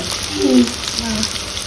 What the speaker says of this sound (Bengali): পেঁয়াজটা এরপর ভাজা হবে হালকা দেখায় পেঁয়াজটা ভাজা